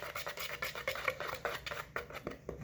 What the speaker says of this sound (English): We're going to mix this together with a whisk.